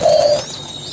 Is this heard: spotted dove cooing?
yes